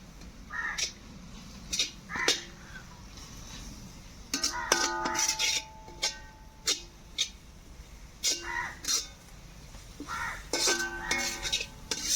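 Ground garam masala stirred into crab perattu in a pan, a spoon scraping and clinking against the pan in scattered bursts with short pauses, fairly faint, no talk.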